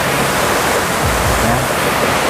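Curug Paniis waterfall in Sumur, Pandeglang, pours with a steady, dense rushing roar heard up close, unbroken for the whole stretch with no voices.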